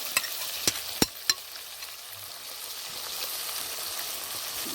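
Saltfish and ackee with seasoning are stirred in a pot, with a few sharp spoon scrapes and knocks early on over a soft, steady sizzle of frying food.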